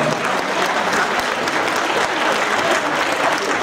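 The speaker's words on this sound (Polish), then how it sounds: "Duże brawa, drodzy Państwo." A crowd gives loud, sustained applause after an item is sold at a Great Orchestra of Christmas Charity auction, the clapping thick and continuous from start to finish.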